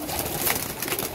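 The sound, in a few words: Rampuri pigeons cooing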